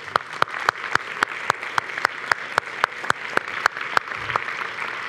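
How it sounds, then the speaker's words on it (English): Audience at a European Development Days panel on fighting corruption gives the panelists a round of applause, heard as a sparse, regular train of sharp claps over a low roomy wash, steady and moderately loud. "Let me just invite the audience to have a big clap to all our panelists."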